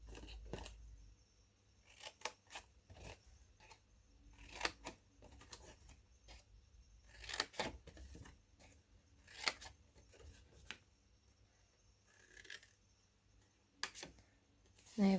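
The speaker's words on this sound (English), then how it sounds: "we're going to cut every single score line across up to our first score line" Paper scissors snip along the score lines of cardstock for a crafted Easter egg gift box, giving a quiet series of crisp, irregular cuts with short pauses between them.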